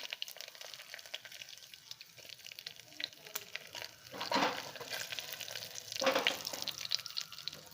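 Dals and dried red chillies fry in hot tempering oil, giving a steady soft sizzle with louder crackling bursts around the middle and near the end. No one speaks.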